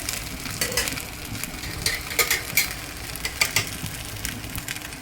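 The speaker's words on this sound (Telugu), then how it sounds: "ఇలా సిమ్లో పెట్టుకొని కాల్చుకోవాలండి" A pancake sizzles softly on a pan over a low flame, a steady frying hiss broken by light scraping clicks, close and alone.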